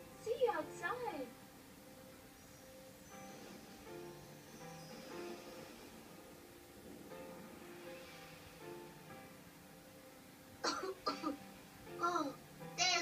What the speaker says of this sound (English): Yes, you're coughing because of the smoke.